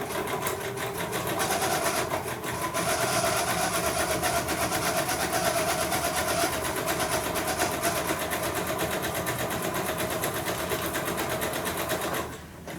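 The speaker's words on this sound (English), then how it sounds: "I'm taking this over to my sewing machine, and I am changing to my zigzag again, and I will zigzag around here" A sewing machine runs steadily in zigzag stitch while edging a small crazy-quilted stocking-stuffer gift, a continuous close whir lasting about twelve seconds before briefly easing at the end, with no talking.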